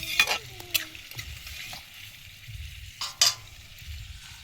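Soft frying and stirring of loitta fish cakes in oil, cooked outdoors in a village style by a riverbank, with brief scraping stirs and quiet sizzle, fairly faint and close.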